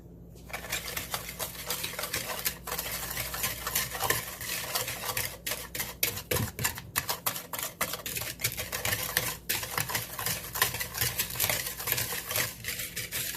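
A whisk beats sugar and vanilla into a cream mixture in a bowl, giving a rapid, continuous metallic clatter against the bowl that stays close and fairly loud throughout, with no voices.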